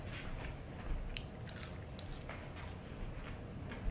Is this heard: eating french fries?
yes